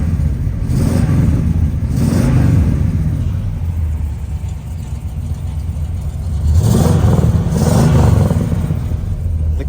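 A 1969 Pontiac GTO engine idling with two strong revs, the deep rumble swelling loud and close, then settling back, with no talk over it.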